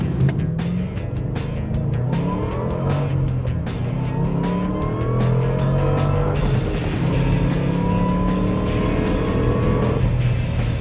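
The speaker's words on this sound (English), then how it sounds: "I'll show you just a nice smooth launch, allowing the rear tires to get a good bite and taking her through up to the high level of third gear" A Roush car making a smooth launch and accelerating hard up through the gears into third, its engine climbing loud and close with rising pitch sweeps at each shift and some tire noise.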